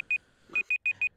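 An electronic alarm beeps in short, sharp, evenly sized pulses: one beep, a pause, then four quick beeps in a row, loud and clear over a quiet background.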